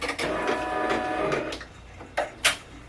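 A home embroidery machine stitches freestanding lace in white thread, giving a steady mechanical whirr with rapid needle chatter and a few sharper clicks near the end, close by with no talk.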